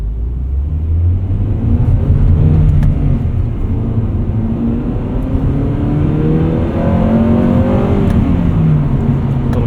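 A 1999 Honda Prelude Type SH with a 5-speed manual revs hard into VTEC while driving on a city route, its engine note climbing steadily in pitch over a constant loud rumble of road and cabin noise.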